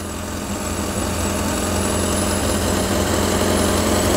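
A 1948 Ford Prefect E93A engine running steadily, a loud, close, even mechanical drone with a constant low throb and no voices.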